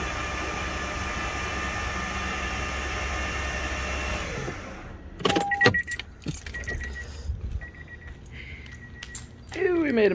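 Toyota 1UZ-FE V8 cranking over with its spark plugs removed: a steady whirring, droning spin for about four seconds that then cuts off, followed by clinks, rattles and handling noises up close.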